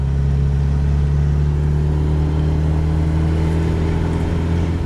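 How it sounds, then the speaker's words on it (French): A classic MGB GT coupe engine hums steadily in fourth gear at about 1500 rpm, a constant low droning tone heard close up from inside the moving car, with no one speaking. "Là, je suis en 4e. 1500 tours, le moteur a assez de courbe."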